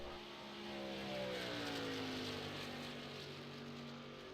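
A racing truck in the iRacing ISRA Truck Series at Kentucky passes by, its engine note rising then sliding down in pitch as it goes past, steady and moderately distant with no talk.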